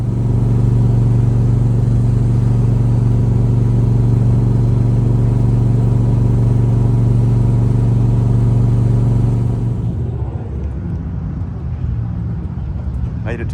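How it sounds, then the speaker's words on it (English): A Plymouth Valiant's engine warms up at a motorsports park, a loud, steady idle drone held close for about ten seconds before it drops to a quieter, rougher rumble. "We got the Valiant heating up right now"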